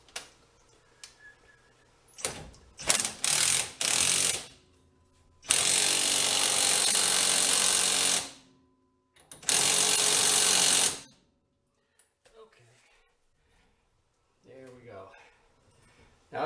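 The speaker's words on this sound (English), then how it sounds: "I'm going to use the impact just because" Impact wrench running lug nuts onto the hub of a Triumph Spitfire, heard in several loud rattling bursts: a few short ones, then two longer runs of about two and a half seconds and one and a half seconds, with quiet gaps and faint noises between.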